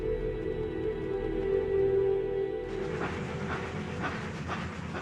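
Pennsylvania Railroad's Gotham Limited passenger train travelling across the Ohio Valley in 1927, with a steady rumbling roll and hiss, then a brighter clatter of wheels on rails.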